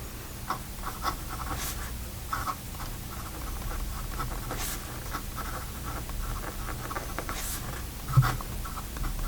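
A Carolina Pen Company urushi fountain pen with a 1.1 nib writing on paper, soft steady scratching strokes with brief louder scrapes, close and quiet, no talk.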